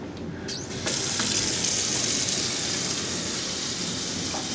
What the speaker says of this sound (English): Kitchen faucet works, no leaks.